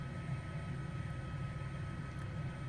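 A helicopter flying low gives a steady, even rotor and engine rumble that stays constant throughout, with no voices.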